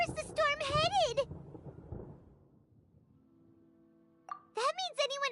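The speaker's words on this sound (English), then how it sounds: "Paimon hears thunder!" Thunder in the video game Genshin Impact, a low rumbling roll that swells and fades over a couple of seconds between bursts of high-pitched character speech.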